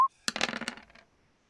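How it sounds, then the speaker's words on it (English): Three dice dropped and rolling on a hard surface, a brief clatter of rapid clicks that quickly fades to stillness, close and clear after a short tone. "Give me a 3-dice roll"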